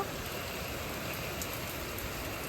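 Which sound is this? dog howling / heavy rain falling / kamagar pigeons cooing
heavy rain falling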